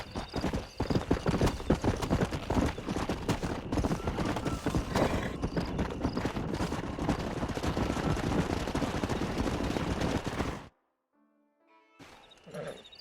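Horse hooves clip-clop steadily in Red Dead Redemption, a dense rhythmic trot with an occasional whinny and distant gunfire, loud for about ten seconds before cutting to near silence and a brief return.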